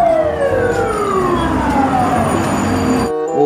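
A toy fire truck siren wails continuously up close, its pitch sliding downward in a steady electronic whine before cutting off abruptly.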